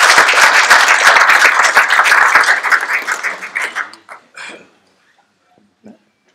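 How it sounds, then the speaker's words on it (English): Dense audience applause welcoming a speaker to a prescribed-fire burn school, loud and sustained for about four seconds, then thinning into a few scattered claps before fading to near silence. "So please give him a round of applause and welcome him to our burn school."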